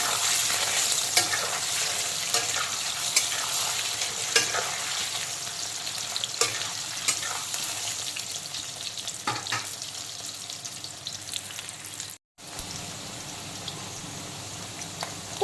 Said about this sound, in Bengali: ছোলা কচুগুলোকে হালকা করে ভেজে তুলে নেব